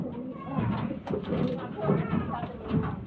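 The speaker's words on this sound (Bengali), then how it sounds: "আমি দুটো পায়রাকে ছেড়ে শখ করাচ্ছি" Pigeons coo in soft repeated throaty phrases close by, with a person talking over them and some light rustling.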